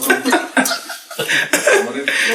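Several short bursts of coughing in a row, close by and fairly loud, with a bit of throat clearing and chuckling mixed in.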